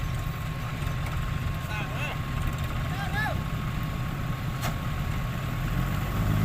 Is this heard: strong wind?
no